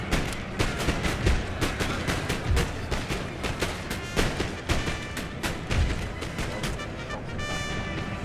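Continuous battlefield din from Napoleon: Total War, with dense rapid cracks of musket and artillery fire overlapping into a sustained rolling roar, occasional heavier booms standing out, no talk.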